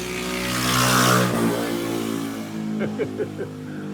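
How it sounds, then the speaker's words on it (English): A loud motorcycle with a loud muffler roars past nearby on New Year's Eve, its engine swelling and fading, followed by a few sharp revving bursts. "this is New Year's Eve, so you get this loud motorcycle"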